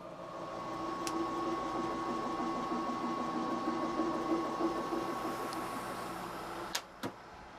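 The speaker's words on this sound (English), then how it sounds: "This is a 1-inch end mill, so let's see if this is slow enough." Milling machine with a 1-inch end mill cutting steadily at a slowed speed, a continuous whirring, grinding drone at close range that ends in a couple of sharp clicks.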